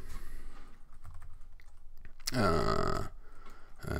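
Typing on a computer keyboard, with a few light key clicks up close, then a louder cluster of keystrokes and a final short tap.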